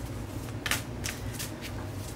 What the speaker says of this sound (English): A few more shuffles here.